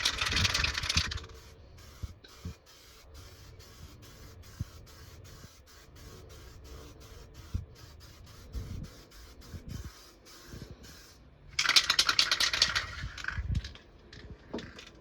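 A spray rattle can painting a Harley Benton DIY guitar kit, loud hissing bursts at the start and again near the end, with quieter intermittent spraying and faint handling sounds between.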